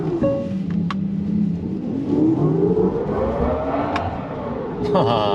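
A Hyundai IONIQ 5 N electric car plays a simulated engine note while accelerating hard, rising steadily in pitch through the gears with a brief shift dip, loud and continuous from inside the cabin.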